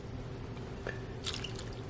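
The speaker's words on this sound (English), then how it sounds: "Let's start adding water. So there's 1/3 cup of water." Water pours into a Dash mini rice cooker holding black bean soup ingredients, a faint splashing drip over steady low background hum, with a brighter burst of splashing toward the end.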